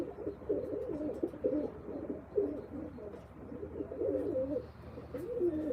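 Pigeons at a pigeon-flying event coo steadily, a chorus of overlapping low, throaty phrases repeating without pause at moderate volume, with no talk.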